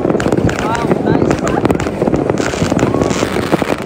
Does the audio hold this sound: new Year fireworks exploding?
yes